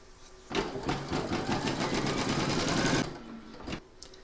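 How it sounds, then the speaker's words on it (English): A sewing machine runs steadily for about two and a half seconds, stitching around a large double-sided Santa applique, loud and close with a rapid even rhythm, then stops, followed by a brief handling noise. "We're now going to secure that by stitching round number 4."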